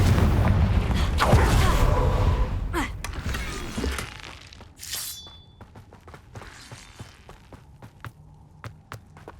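A Confringo fire spell bursts in Hogwarts Legacy as a loud, booming explosion with crackling debris, followed by a quieter tail of scattered sharp impacts and faint footsteps.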